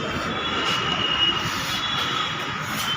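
A Delhi metro train at Laxmi Nagar station in fog gives off a steady metallic rumble with a high, sustained wheel squeal, continuous and fairly close.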